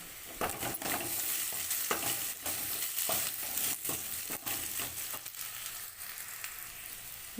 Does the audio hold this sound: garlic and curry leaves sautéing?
yes